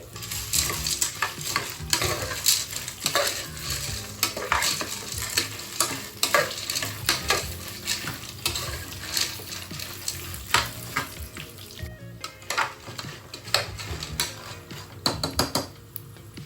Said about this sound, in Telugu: మైక్రోని కొంచెం కలర్ చేంజ్ అయ్యే వరకు ఫ్రై చేసుకోవాలండి.